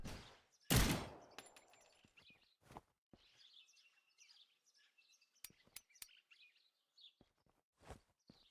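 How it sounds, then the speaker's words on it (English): Gunshots fired at a wall in a video game: one loud close blast near the start, then scattered sharp cracks and pops spaced out over the rest, with faint chirpy background sounds between them. "Why did we shoot the wall?"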